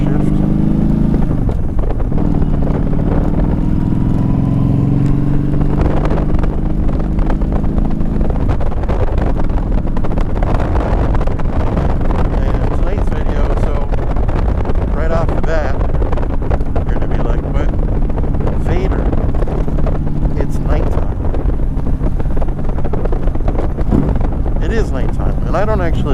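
A 2015 Yamaha V Star 1300 Deluxe SE rides at night with a continuous loud engine drone under heavy wind buffeting, while a rider talks over it throughout.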